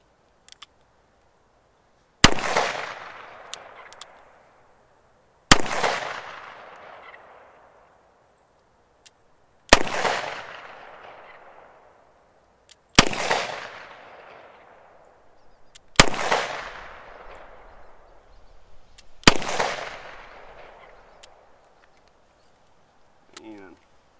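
Six single shots from a 1972 Colt Python revolver ring out at an outdoor range, spaced about three seconds apart, each a sharp loud crack with a long echoing decay.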